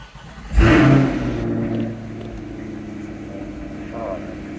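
A C8 Corvette engine starts up and settles into a warm-up idle, a loud burst of revving at startup that eases into a steady, lower rumble with a faint hum continuing.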